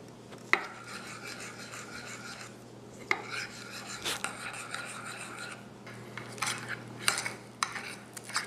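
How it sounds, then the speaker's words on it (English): A spoon stirs oatmeal mixed with cocoa powder in a bowl for brownie-batter protein oatmeal, giving quiet, close scraping and rubbing with a few sharper clinks against the bowl, and no talk. "And now all I'm going to do is stir it up."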